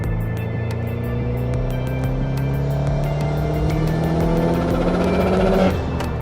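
Engine of a roughly 400 hp Subaru Legacy GT Spec B accelerating in sport sharp mode, heard from inside as a loud, steady rising drone that climbs through the revs for about six seconds before easing off, with no talk.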